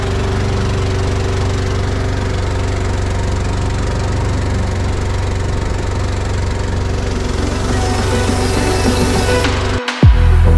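A small 5-horsepower outboard motor pushing a pontoon boat on a lake drones steadily and loudly at constant speed, with water and wind rushing around it, before a sudden bump near the end.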